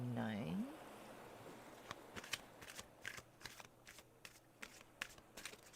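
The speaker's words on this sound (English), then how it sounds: "They're telling me to take one more shuffle." A deck of reading cards being shuffled by hand, opening with a quick riffle then a run of crisp, separate snapping flicks at an irregular rhythm, close and fairly quiet, with no talking.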